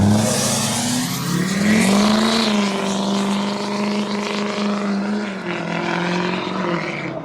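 A loud diesel engine drones nearby as a Duramax diesel pickup on 35-inch tires rolls over products, its pitch shifting slightly before settling into a steady rumble.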